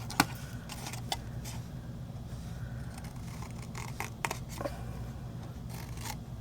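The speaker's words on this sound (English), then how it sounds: "Cut a little wedge piece out." Scissors snip a small wedge out of a paper gift box, giving a few crisp, brief cuts close by over a steady low background hum.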